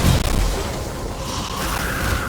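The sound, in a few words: explosions from the video game Evil West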